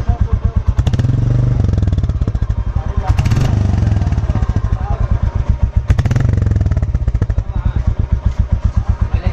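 A BS6 Royal Enfield Classic 350 motorcycle with a free-flow bend exhaust idles close by with a loud, steady thumping exhaust pulse, rising briefly a few times as the throttle is blipped.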